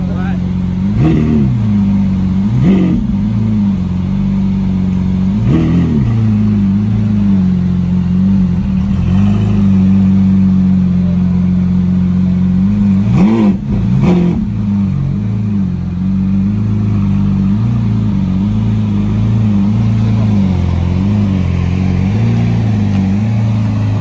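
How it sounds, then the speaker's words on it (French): A Lamborghini Aventador's engine roars through several loud, sharp revs that rise and fall over a steady idle rumble, close by outdoors, with people talking in between. "Aventador Lamborghini"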